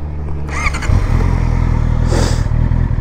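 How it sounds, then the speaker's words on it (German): A 2023 Honda CBR 650R four-cylinder motorcycle engine catches with a brief starter whir and then settles into a loud, steady, close idle rumble that continues to the end. "Ist einfach 4-Zylinder-Motor, ist schon mal von Haus aus einfach ein geiler Sound."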